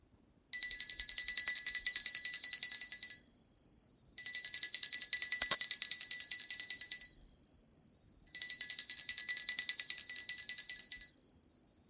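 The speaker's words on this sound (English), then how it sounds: "Now, I take a bell to offer the element of sound." A small ritual hand bell rung during a planetary puja, three long bursts of rapid bright ringing separated by brief pauses, each ending in a fading tone.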